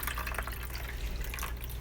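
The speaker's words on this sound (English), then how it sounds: "Let some of that whey drop out" Whey dripping and trickling from freshly made cheese curds held up over a pot, a steady, soft watery patter with no voices.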